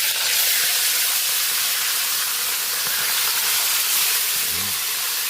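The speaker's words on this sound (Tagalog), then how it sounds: "Prito na tayo para sa ating sweet and sour." Fish fries in hot oil for sweet and sour fish, giving a continuous loud sizzling hiss that stays steady throughout, with no talking.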